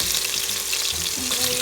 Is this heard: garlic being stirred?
yes